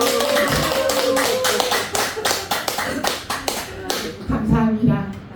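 Congregation at a Buddhist temple dharma talk clapping together, a run of sharp close claps with uneven rhythm and a voice briefly over it near the end.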